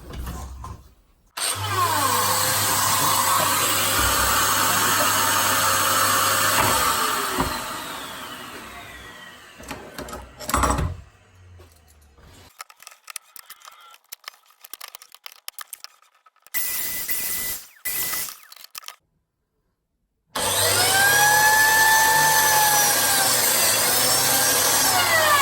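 An Einhell or DeWalt biscuit joiner buzzes up to speed and cuts a slot in wood, a steady loud motor whine that winds down. Quieter clicks and handling noises follow before the motor starts up again near the end.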